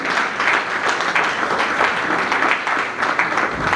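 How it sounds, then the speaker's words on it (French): Audience applause at an evening awards ceremony where a peace ambassador honour is presented, a dense, steady wash of many hands clapping at close range throughout, with no voices over it. "Sous vos applaudissements, mesdames et messieurs."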